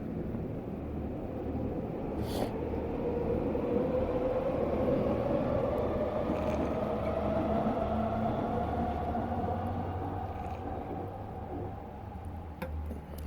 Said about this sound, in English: I like how they blow that horn.